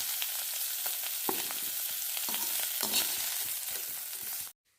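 Cauliflower florets frying in oil in a wok, a steady hiss of sizzling with occasional pops and stirring scrapes, close and continuous before cutting off abruptly at the end.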